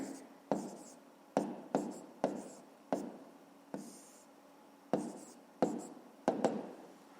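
A pen scratching out a fifth-grade math solution by hand on paper, in short close strokes with brief pauses between them, quiet and steady, with no talking.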